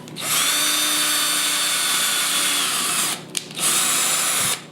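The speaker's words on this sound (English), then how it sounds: "I have my drill bit at a certain length, random, and then I just drill it" A power drill whines loudly and steadily for about three seconds while drilling a pilot hole, stops briefly, then spins up again for another short burst.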